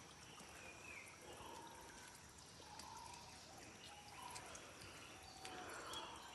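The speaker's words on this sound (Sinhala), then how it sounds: "මේක තමයි උල්පත කියන්නේ" Clear water trickles and pours from a village spring in a soft, steady flow, fairly faint, with occasional faint bird or frog calls behind it.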